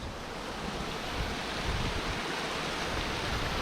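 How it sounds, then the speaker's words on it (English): Waterfall on a water course, a dense constant rush of falling water, close and steady with no talk. "Literally a waterfall"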